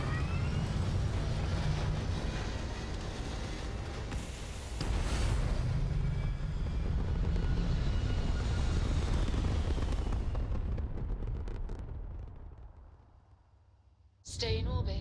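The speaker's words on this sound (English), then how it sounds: "We have liftoff." Rocket liftoff in a space video game: a loud, sustained broadband engine roar that swells at about five seconds, holds steady, then fades out toward the end before a brief sharp burst.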